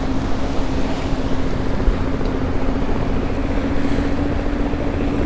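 Continuous low whir of an electric sportsboat's stern drives under broad rushing water and wind noise, humming steadily while the hull cuts through waves.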